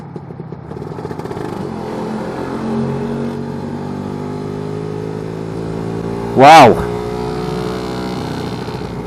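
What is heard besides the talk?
Lambretta scooter revving with BGM Pro MZ30 exhaust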